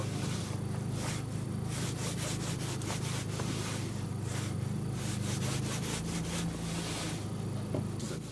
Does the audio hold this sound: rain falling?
no